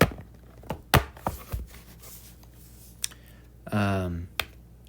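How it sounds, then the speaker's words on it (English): Sharp keystrokes on a computer keyboard come in scattered clicks of uneven rhythm, close and fairly loud, with a brief burst of a voice among them. "get my keyboard out."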